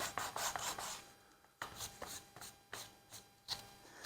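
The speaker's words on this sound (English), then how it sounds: "You want to touch all the surface with the tool or with the sandpaper." Sandpaper rubbing across the wooden surface of a traditional hand-carved fan, a series of close, rasping strokes in irregular rhythm with brief pauses between them.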